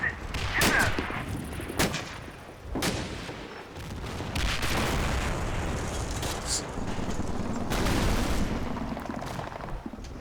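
Gunfire in the Combat Mission: Battle for Normandy video game as American infantry shoot at advancing troops, with repeated sharp shots and bursts over a dense battlefield din, loud and continuous through the scene.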